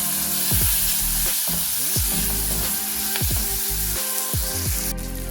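Sliced onions and slit green chilies frying with turmeric powder in hot oil for a prawn curry, a loud continuous close sizzle with repeated spatula scrapes and stirs across the pan.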